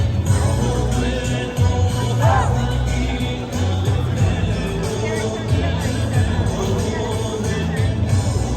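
A dense crowd at a street festival in Brussels, with steady overlapping voices and hubbub filling the whole stretch and low rumbling beneath, no single sound standing out.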